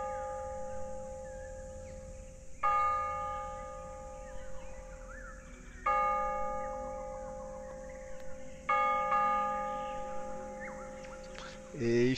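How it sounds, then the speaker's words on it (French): Church bells ring out in repeated struck peals with long sustained tones, starting around a few seconds in and returning several times, fairly close and clear over a quiet background, with a faint rooster-like cluck nearby. "les cloches de l'église commencent à sonner"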